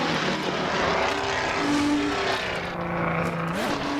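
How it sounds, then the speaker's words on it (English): A race car engine in Assetto Corsa on the Le Mans circuit, a sustained droning note with shifting tones that wavers and dips as if sputtering, loud and continuous. "See, it sounds like the engine's dying."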